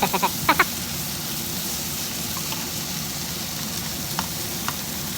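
Scrambled eggs with sardines, green chili and tomato cooking in a pan, giving a steady, even sizzling hiss throughout, with a few sharp clicks of a utensil at the start and now and then.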